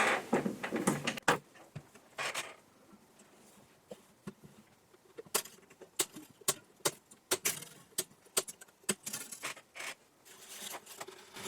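String cutters snip the strings of a Fender 310-12 twelve-string guitar, a series of sharp separate clicks and snaps with irregular spacing and quiet pauses between cuts.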